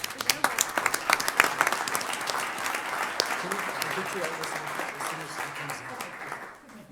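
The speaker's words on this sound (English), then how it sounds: "A round of applause, please, for his work" Applause from the audience at a county commissioners court meeting in El Paso, a steady patter of many hands clapping that starts loud and dense, with some talk mixed in, then fades away at the end.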